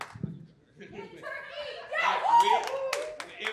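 Audience applause vote at an April Fools debate pitting the eagle against the turkey: scattered claps break out amid murmuring voices and light chuckles from the crowd.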